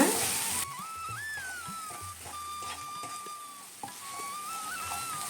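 Mint leaves sauté in a pan on the stove for a tomato rice premix. A steady, close sizzle crackles throughout, with a few soft stirring scrapes.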